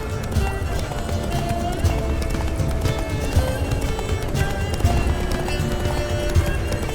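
A horse gallops in The Witcher 3, with rapid, steady hoofbeats running throughout at a moderate level under an ongoing game soundscape.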